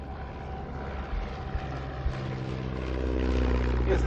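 A vintage aircraft with a 200 horsepower Wolseley Viper engine flies at an Old Warden race day, its propeller engine droning steadily and growing louder as a voice talks over it.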